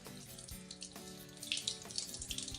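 Tap water runs into a sink to wet a Philips VisaPure face-cleansing brush, a quiet, close splashing with soft trickles and small irregular spatters for a couple of seconds.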